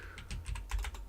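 Quick bursts of keystrokes on a computer keyboard, typed unevenly in a few clusters over about a second, close up and fairly quiet, with no voices.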